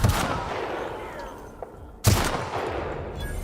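Two loud, close gunshots from The Outer Worlds video game, about two seconds apart, each a sharp blast that rings out into a long reverberant tail.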